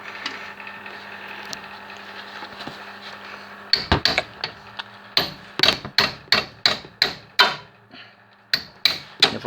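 Loosening the brake caliper bolts on a Renault Modus with a wrench produces a run of sharp metallic clacks, roughly a dozen strikes in an uneven rhythm. They are loud and close over a low steady background hum, and nobody is talking.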